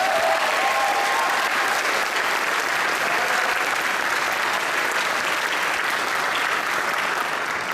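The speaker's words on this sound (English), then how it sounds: "So I think that alone deserves a round of applause." Sustained, dense applause from a concert audience honoring ensembles that won first place, steady and loud throughout with no voices over it.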